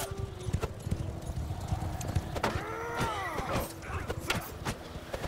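Horse hooves clip-clop in Mount & Blade II: Bannerlord, a medieval video game, with steady rapid footfalls and a brief whinny amid battle noise, under occasional voices.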